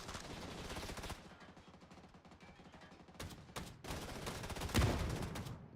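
SMG gunfire in the video game PUBG after a patch update, rapid automatic bursts in several separate strings with short pauses between, loud and close, the last bursts heaviest, no speech.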